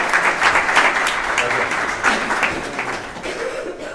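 A crowd applauds at the opening of a radio museum exhibition, dense clapping that swells at the start and tapers off, with a few chuckles mixed in.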